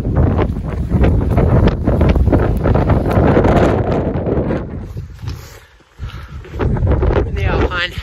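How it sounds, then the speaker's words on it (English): Strong wind buffets the microphone in a continuous roar, dipping briefly before gusting back up. "kind of windy, but we're going."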